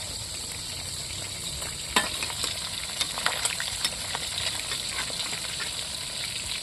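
Food frying in a pan, a steady close sizzle with occasional sharp spatters and pops, and no talk.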